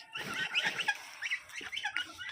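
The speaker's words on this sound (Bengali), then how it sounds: "এই দেখেন আমাদের রাজা হাঁস" A duck kept in a home garden quacks in a quick series of short, nasal calls, close and fairly loud, with a brief pause in the middle.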